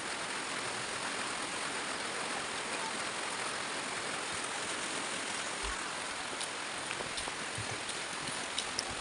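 Heavy rain pouring steadily in a dense, loud hiss that stays constant throughout, with a few faint isolated drips and knocks.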